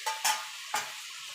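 Vegetarian spinach with whole pieces of vegetables such as eggplant being stirred in a hot pan, giving three short scraping, sizzling strokes over a soft background hiss, close and moderately loud.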